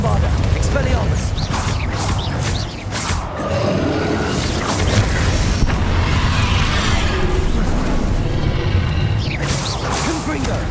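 Bombarda spell explosions burst repeatedly during a magical duel in Hogwarts Legacy, loud and close, mixed with whooshing spell effects and crashes in a dense, continuous battle din.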